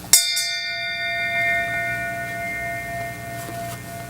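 A memorial bell at a gun violence remembrance gathering is struck once, ringing clear and loud before its long metallic tone slowly decays over a quiet room.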